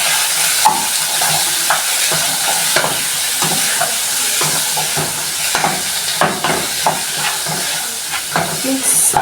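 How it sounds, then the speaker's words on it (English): Beef and chopped tomatoes are stirred together in a cooking pot over the heat, a continuous close sizzle broken by repeated scraping strokes of the spoon. "now you mix it all together"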